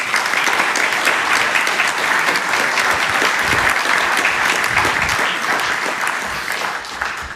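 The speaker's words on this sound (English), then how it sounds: "Please give him an applause." Loud, dense audience applause at the Millennium Innovation Forum as a presenter is welcomed to the stage, continuous clapping from a large crowd that tapers slightly near the end.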